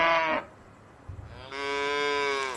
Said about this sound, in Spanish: Es una vaca.